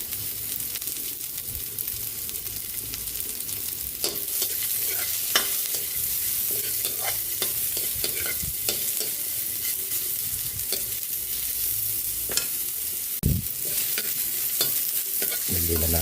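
Pork steak with onions fries in a pan, a continuous sizzle broken by irregular scrapes and knocks as it is stirred, close and moderately quiet with no voices.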